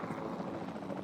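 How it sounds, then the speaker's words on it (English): A capture team helicopter in the Jurassic World Evolution 2 video game gives off a steady, close rotor drone with a dense, continuous whir, holding at an even loudness throughout. "sensible thing is to take a capture team helicopter"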